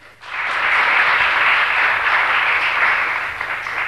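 Studio audience applause on a 1992 Turkish television quiz show, starting suddenly after a brief pause and holding as an even, dense wash of clapping at steady volume until the end.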